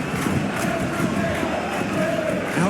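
A stadium crowd in a PES 2021 football simulation of Real Madrid against Levante roars continuously, a dense, loud wall of cheering with no pauses.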